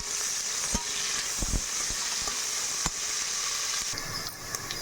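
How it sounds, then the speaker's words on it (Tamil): Sliced onions and green chillies sauté in a pan with a bright, continuous sizzle. A handful of quick scraping stirs cut through the hiss, heard up close without any speech. "வெங்காயத்தை சேர்த்துட்டு வெங்காயம் நல்லா பொன்னிறமாக வர வரைக்கும் வதக்கி எடுத்துக்கலாம்."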